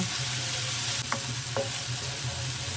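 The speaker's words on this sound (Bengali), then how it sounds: "দিয়ে দিব লবণ, দিয়ে দিব কিছুটা জিরা গুঁড়া দিয়ে আবার ভালো করে কষিয়ে নিব" Spice paste with salt and cumin powder stir-frying in a pan for a pomfret fish curry, with a steady close sizzle and a couple of brief scrapes of a spatula.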